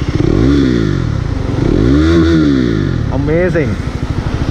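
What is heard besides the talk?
motorcycle modified exhaust idling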